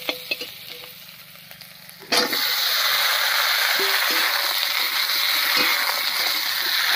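Chopped taro goes into a pan of browned onions: a few clinks of utensils, then a loud steady sizzle of frying starts and keeps going close by.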